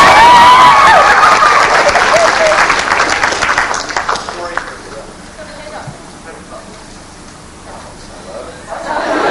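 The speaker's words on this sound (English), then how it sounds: "Clap for it, man." Audience applause and cheering at a fan convention Q&A with actor James Marsters in Australia, loud and dense at first, then thinning out to scattered claps and crowd murmur before swelling again.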